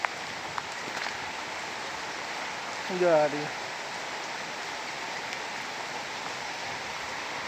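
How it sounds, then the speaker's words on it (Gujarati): Light, fine rain falls steadily at Sakkarbaug zoo in Junagadh, a soft continuous hiss with a brief brighter patter in the middle and a voice speaking faintly in the background. "વરસાદ અટાણે ચાલુ છે ઝીણો ઝીણો"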